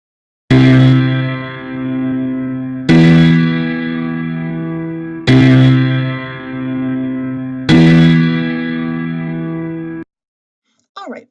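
A loud, sustained tone track in a music production program plays back as four even, repeating held notes of about two and a half seconds each, rich in harmonics with a reverberant, effected character, then stops abruptly.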